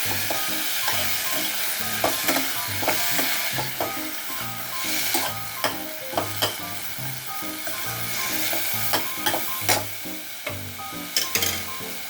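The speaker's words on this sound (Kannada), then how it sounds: "ಈಗ ಪ್ಯೂರಿ ಹಾಕಿಬಿಟ್ಟು ಚೆನ್ನಾಗಿ ಮಾಡಬೇಕು, ಮಿಕ್ಸ್ ಮಾಡ್ಕೋಬೇಕು." Tomato puree fries in a pan while a spoon stirs it, sharp clacks and scrapes recurring irregularly over a constant close sizzle.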